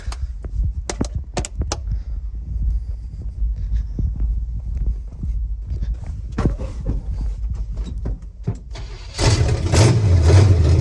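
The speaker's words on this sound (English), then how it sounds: "It's idling." A 1973 GMC square-body truck engine cranks and sputters with scattered clicks, then catches and settles into a steady idle that grows louder toward the end.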